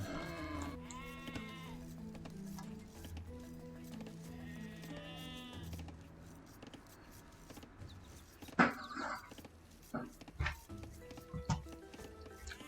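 Sheep bleat in a real-time strategy video game, several wavering calls at moderate level over a steady bed of game ambience, followed by sharper clicks and hits near the end.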